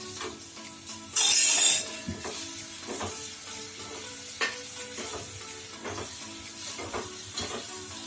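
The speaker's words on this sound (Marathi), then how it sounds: "जरा आपण थोडस भाजून घेऊया पनीरला थोडासा गॅसला मोठा करते" Paneer roasting in hot oil in a pan on raised heat, a steady close sizzle with intermittent stirring scrapes and one brief loud hiss near the start, no speech.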